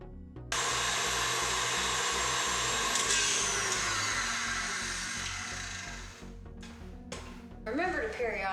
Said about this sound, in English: now we are going to mix our butter and our sugar until it's light and fluffy